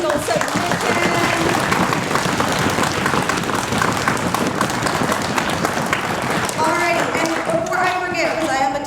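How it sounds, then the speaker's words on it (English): An audience at a middle school fall orchestra concert breaks into loud, sustained applause, a thick wash of clapping with some voices and cheering rising over it toward the end. "So round of applause for every single submission."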